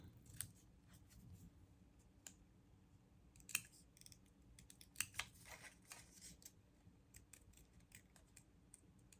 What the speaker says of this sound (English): I think I will fussy cut this.